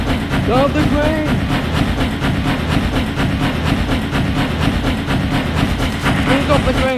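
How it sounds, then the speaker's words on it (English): Continuous rumbling train ride in the Roblox game, loud and steady throughout with rhythmic clatter, while voices shout and talk over it. "Please stop the train!"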